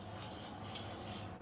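Nigella seeds sizzle in hot mustard oil in a pan, a close, steady crackling fry with light scraping of stirring over it, and no voices.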